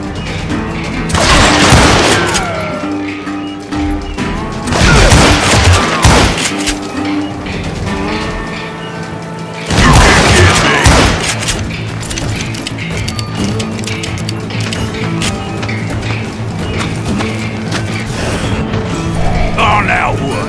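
Gunfire in the video game Call of Juarez: Gunslinger, loud bursts of shots in three clusters separated by quieter stretches, with game voices between them.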